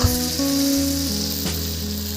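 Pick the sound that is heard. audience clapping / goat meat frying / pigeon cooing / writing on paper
goat meat frying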